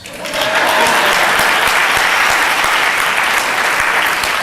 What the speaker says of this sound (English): And I will wait for the applause